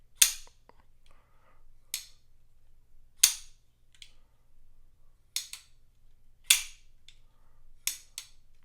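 A Zero Tolerance 308 folding knife flips open repeatedly, each deployment a sharp, crisp metallic snap, about seven of them spaced a second or so apart in a quiet room, with faint clicks between.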